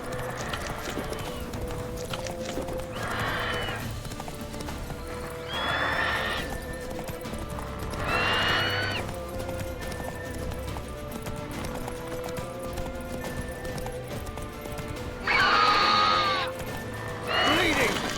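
Roach, the horse in The Witcher 3: Wild Hunt, gallops with rhythmic clip-clop hoofbeats, while several loud neighs and whinnies burst out over the running and game music plays beneath.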